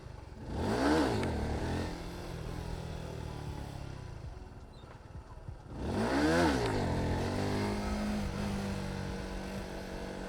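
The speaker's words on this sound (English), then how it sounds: "let's pop the wheel up a little bit" Motorcycle engine revving hard twice, each burst rising in pitch as the front wheel lifts into a small wheelie on a street ride in Saigon, loud and close with a steady idle rumble between the two pulls.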